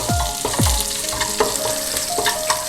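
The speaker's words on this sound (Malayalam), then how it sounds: "ചെറിയ പച്ചമുളകാണ് 4 ഇട്ടിരിക്കുന്നത് എരിവിന് വേണ്ടി, അതിട്ടിട്ടൊന്ന് ഇളക്കി കൊടുക്കാം" Green chillies frying and being stirred in a pan for broken wheat uppuma, a steady close sizzle with a few scraping stirs of the spatula, no voices.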